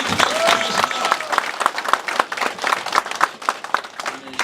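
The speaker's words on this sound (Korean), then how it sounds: "뜨거운 박수" An audience at the opening of a party candidate's campaign office applauds warmly after a former party leader is introduced. The clapping is loud and close, with sharp individual claps over a steady crowd wash, and brief voices show up now and then.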